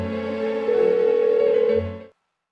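A phone rings unanswered in the video game Persona 4 Golden, a steady electronic ringing tone sustained for about two seconds before cutting off into silence.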